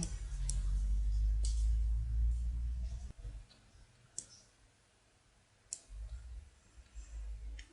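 A computer mouse clicks a few times while someone works with the Deco Tool in Flash CS6: sparse, sharp, close single clicks over a low steady hum, with quiet stretches between them.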